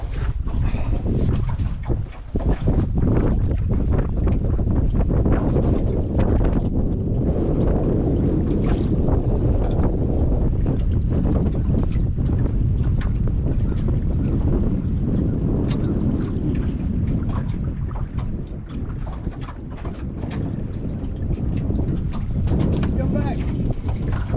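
Strong wind on a lake buffets the microphone with a constant low roar and rumble throughout, the gusts barely letting up.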